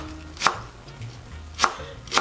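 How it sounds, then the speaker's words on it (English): A kitchen knife slices through spring onion on the diagonal while stir-fry pork with vegetables is prepared: three crisp, separate chops against a board, close and distinct, with quiet pauses between them and no talking. "just cut these diagonally"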